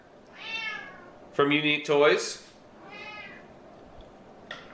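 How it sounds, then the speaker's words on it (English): A cat meows several times, drawn-out cries in the background, while someone talks briefly over them. "You can hear my cat crying in the background."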